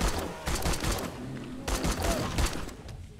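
Gunfire in the zombie survival game 7 Days To Die (Darkness Falls mod): rapid, close bursts of shots in two clusters, with sharp repeated cracks and thuds.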